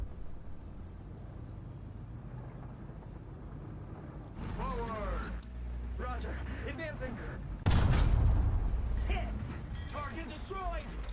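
Tank cannon shots and hits on armor in War Thunder, several sharp impacts breaking through ambient battle noise, one loud blast near the middle, with someone talking over parts of it.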